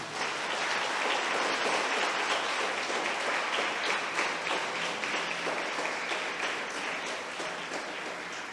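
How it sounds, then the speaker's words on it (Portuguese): Steady, dense applause from a church congregation fills the whole stretch, loud and even with no voices standing out, fading slightly toward the end. "Quem acha que Deus está falando, aplauda Jesus."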